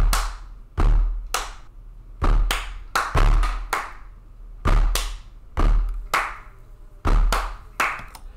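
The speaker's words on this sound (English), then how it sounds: "I also recorded myself hitting my desk and clapping to go along with the drums at multiple points in the song." Hand claps and hits on a desk, recorded as percussion to go with drums: a dozen sharp, close impacts in an uneven rhythm, some dull thuds and some bright cracks, each fading quickly.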